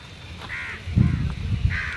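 Crows in a large flock of over a hundred give several harsh, moderately loud caws at close range, with low rumbling outdoor noise in the background.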